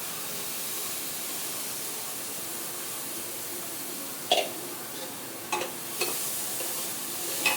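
Whole masoor lentils sautéed in oil in a pan with roasted onion and coconut, a soft constant sizzling hiss broken by a few distinct spoon clicks and scrapes in the second half.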